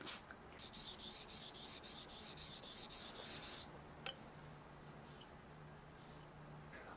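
Steel chisel backs being flattened on the 800 grit side of a sharpening stone, a steady faint rasping rub in repeated strokes with a brief sharp tap partway through, no talking.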